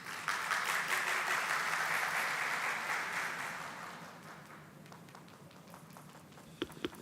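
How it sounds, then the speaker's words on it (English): Audience applause welcoming kathak dance performers at an ISRO academic event, a loud sustained burst of many hands clapping that gradually fades over several seconds, leaving a few scattered claps at the end. "So welcome them with a big round of applause."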